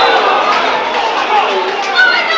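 A home football crowd at an Aldershot Town match against Boston United murmurs and grumbles in a steady wash of voices, with a few louder shouts rising out of the noise.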